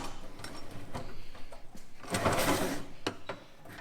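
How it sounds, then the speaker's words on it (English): Drawers in a work tray fitted to a Ram ute slide open and shut. Wooden knocks and sliding rumbles repeat close by, with one longer scraping slide in the middle. "Check before I go too far is just that the drawers will work"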